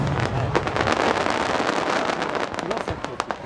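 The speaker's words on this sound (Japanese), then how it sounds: "岩崎って言ってね、先がこう割れる花火ですね。" A volley of about ten fireworks bursting at once at a large seaside fireworks festival, the shells splitting into two stars at their tips; dense crackling bursts and sharp pops run continuously, loud and fairly close, with people talking over them.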